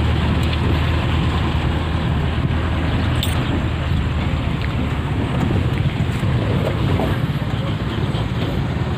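A boat crosses the open sea toward Iloilo with steady engine rumble, rushing wind and splashing waves, loud and continuous throughout.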